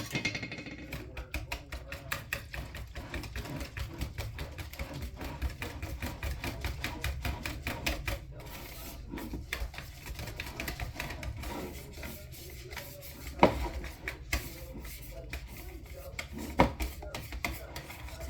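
Bread dough being mixed by hand in a home kitchen, a continuous close rubbing and rasping sound with a rapid scraping rhythm and occasional sharper knocks, fairly quiet throughout.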